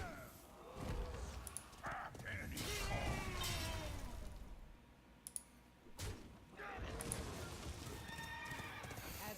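Video game card effects fill the scene: horses neigh and whinny over clattering clip-clop hoofbeats in several loud bursts, separated by brief quieter gaps, while a voice talks underneath.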